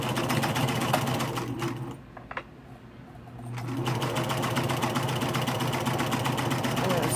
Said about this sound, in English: And I want to sew that at about a quarter of an inch.